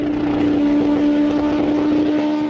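Kawasaki H2R motorcycle at about 326 km/h shifting into sixth gear, a loud sustained engine whine with strong steady tones under heavy rushing wind noise, continuous and close.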